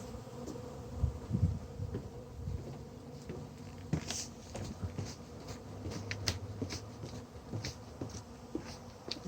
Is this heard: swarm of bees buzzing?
yes